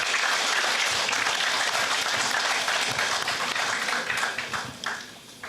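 A large audience applauds for Prakash at a company success meet, steady dense clapping that fills the room and then tapers off in the final second.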